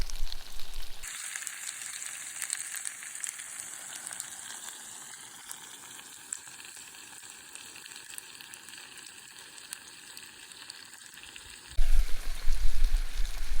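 Brook trout sizzles and fries steadily in a pot at a mountain lake campsite, a continuous crackling hiss with fine popping that holds for several seconds before a louder rustle at the end.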